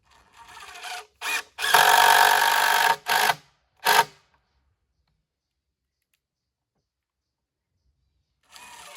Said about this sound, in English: I'll throw some more screws in this piece here.